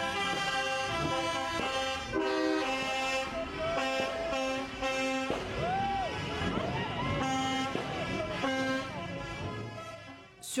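Vehicle horns honk repeatedly as a slow convoy of trucks crawls along a roadside lined with spectators, with overlapping sustained and bending horn tones, loud and close, and voices mixed in.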